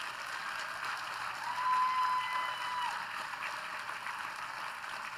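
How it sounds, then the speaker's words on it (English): A school graduation crowd gives a round of applause for the class of 2024 graduates, heard as a faint, distant patter of clapping that swells slightly and then holds steady. "Can we give them another round of applause?"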